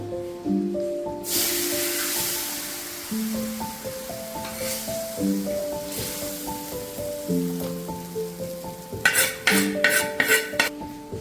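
Potato curry stirred in a pan, a spoon scraping and clinking against the metal with a soft simmering hiss, followed by a quick run of sharp taps near the end over faint background tones.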